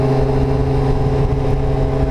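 A two-stroke dirt bike engine screams at high, steady revs, held wound out close by for the whole stretch, loud and continuous with no other voices or noise over it.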